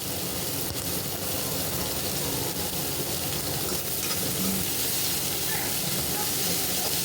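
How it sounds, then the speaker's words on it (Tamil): Onions sautéing in a pan for a home-style chicken gravy, giving a continuous even sizzling hiss at moderate loudness throughout. "நல்லா வதங்கிட்டு இருக்கு பாருங்கள்."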